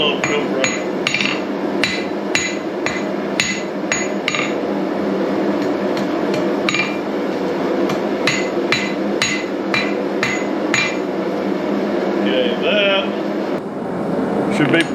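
A hammer strikes hot steel on an anvil's step to bevel a blacksmith's sword-shaped letter opener. Sharp metallic ringing blows land at a steady, then uneven rhythm over a constant workshop hum, close and loud.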